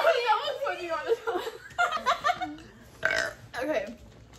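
Loud, gurgling burps after gulping Sprite in a soda challenge, several close belches in succession mixed with chuckles and laughter from people nearby.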